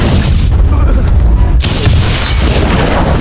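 An explosive charge set on a wall blows up in an action movie scene. A loud, dense boom fills the clip, with a sharp fresh burst of blast noise partway through.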